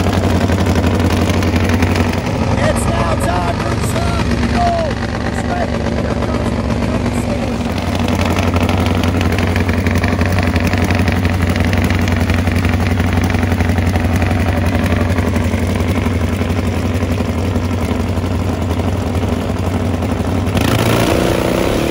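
A Top Fuel nitro Harley drag motorcycle, about 1,000 pounds with roughly 1,000 horsepower from a 200-cubic-inch engine, rumbles in a loud, steady low idle throughout, its tone shifting briefly near the start and again at the end.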